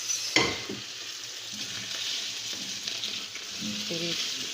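Potatoes frying in a pan, a steady close sizzle lasting throughout with a sharp clatter near the start and light stirring sounds, no voices.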